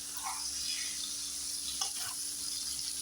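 Sausages fry in a pan with a soft, steady sizzle and faint crackle throughout, quiet and close, with no talk over it.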